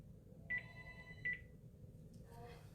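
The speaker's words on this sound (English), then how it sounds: "Murphy's Law means that the phone's going to ring" A telephone rings twice in short electronic trills at moderate volume, with faint indistinct sounds following.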